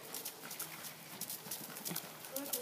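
A horse canters around an arena, its hoofbeats thudding in a quick, rhythmic clip-clop, faint and at a distance, over low background noise.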